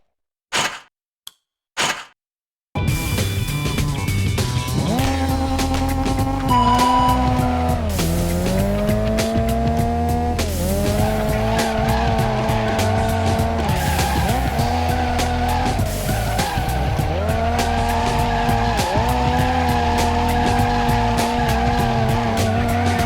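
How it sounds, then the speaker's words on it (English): Car drifting in the PS2 game Professional Drift D1 Grand Prix, a loud, sustained tire squeal layered over a revving engine whose pitch rises and falls through the slide, after a few brief opening sounds. "Prolong the drift."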